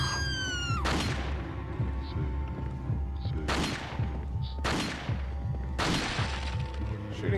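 Several loud gunshots fired at Zealots in Resident Evil 4, each a sharp bang with a ringing tail, spaced a second or two apart over low game ambience.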